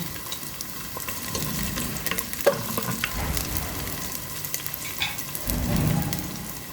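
Vegetables sizzle and crackle in a hot pan as they're sautéed and stirred, with scraping and clinking of a utensil and a steady frying hiss.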